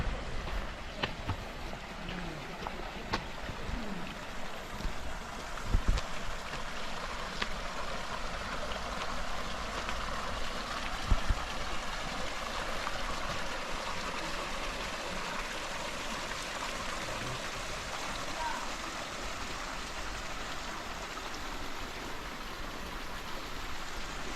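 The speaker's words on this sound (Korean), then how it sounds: "마침 옆에 물이 흘러내리고 있어서 그 물소리 한번 들어보도록 하겠습니다" Water trickles and flows beside a path in the Changdeokgung Secret Garden, a soft, steady hiss with occasional faint clicks, fairly quiet and unbroken, with no one speaking.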